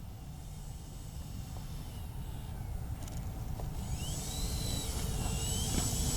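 An Avios Albatross HU-16 RC model seaplane comes in to land, its motor a steady, moderately distant drone that swells slightly toward the end, with faint outdoor noise around it.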